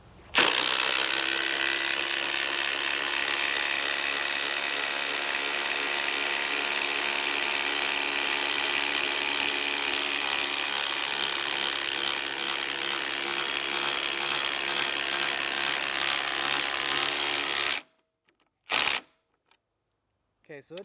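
A Ridgid subcompact drill running on a 3 Ah battery drives lag bolts into wood, giving a steady, loud, continuous motor whine with a ratcheting grind. It runs for about eighteen seconds, then stops abruptly, followed by a couple of brief clicks.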